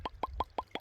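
Five quick watery plops in an even rhythm as koi splash in a pond, each a short, bright splash at the surface, fairly close with quiet in between.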